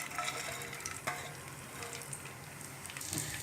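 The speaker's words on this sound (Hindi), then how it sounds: "अब हम इसमें देसी घी ऐड कर देंगे। अब सारे ड्राई फ्रूट्स हमें एक एक करके इसमें डाल देने हैं।" Dry fruits fry in desi ghee in a hot pan, a soft steady sizzle with light crackles and occasional stirring scrapes, quiet and close with no talk.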